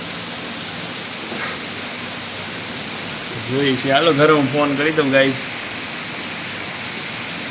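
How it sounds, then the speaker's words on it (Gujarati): Steady summer rain hisses continuously, with a voice speaking briefly over the downpour partway through. "ઉનાળામાં વરસાદ થઈ ગયો છે"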